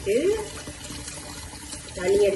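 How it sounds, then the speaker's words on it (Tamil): Water poured into a pot for millet porridge, a close trickling pour at the start and again near the end with a quieter stretch between. "அதுக்கு இப்போ தண்ணி கொஞ்சம் விடும்"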